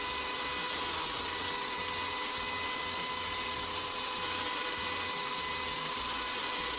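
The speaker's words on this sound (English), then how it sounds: "Turn it on and start sharpening the knife with the coarse side, moving evenly, following the correct blade angle." Angle grinder fitted with a CD, held in a vise, sharpening a knife blade on the coarse side: a steady, high-pitched whine with a constant grinding hiss that runs unbroken at moderate volume.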